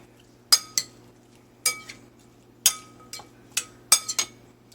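A utensil mixes pico de gallo with salt, pepper and cilantro in a bowl, making about ten sharp clinks and taps against the dish at an uneven pace, close and alone.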